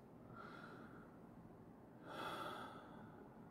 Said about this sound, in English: if we're breathing with our chests like this